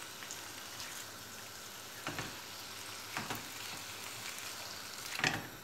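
Meat sears in an uncovered pan with a steady, even crackling sizzle, close and fairly quiet, broken by a few sharper pops and spatters.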